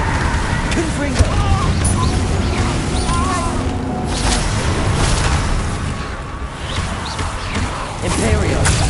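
A Confringo spell blast in Hogwarts Legacy, a fiery explosive boom with rumbling debris under dense, continuous combat noise lasting several seconds.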